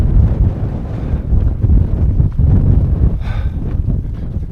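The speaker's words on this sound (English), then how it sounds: "it's still windy, but it's a tailwind" Strong gusting wind roars against the microphone on the Dales Way walking trail, rising and falling in buffets, loud and continuous with no voices.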